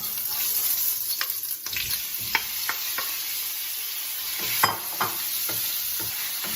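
Beef steak pieces browning in a hot wok give a dense, loud sizzle with repeated scraping tosses and a few sharp metallic knocks of the spatula.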